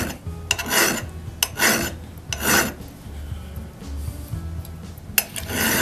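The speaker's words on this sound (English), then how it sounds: "it only takes one or two strokes of the file to get it to come out" Several rough rasping strokes of a metal file sharpening an auger bit, close up, in short bursts with brief pauses between them.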